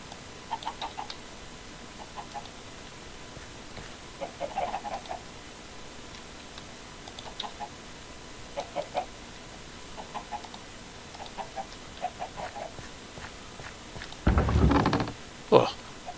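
Chickens in the Minecraft Stoneblock game clucking in short, soft repeated bursts at irregular intervals, with a louder mechanical clunk near the end.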